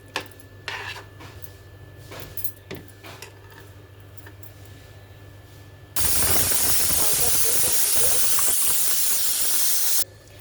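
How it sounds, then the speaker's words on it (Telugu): A pressure cooker on a kitchen stove, cooking dal for sambar, lets out a loud sustained steam hiss for about four seconds, after quieter kitchen sounds and faint ticking. "ఒక విజిల్ వచ్చింది, స్టవ్ కట్టేసాను"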